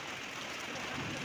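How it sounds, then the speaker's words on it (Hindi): Heavy rain pours down at a roadside in India, a dense, steady hiss filling the whole short stretch without pause, close and even, with no voices. "वो देखो क्या मजेदार बारिश है।"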